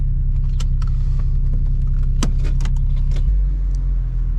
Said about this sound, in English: All right, so we about to test drive his car.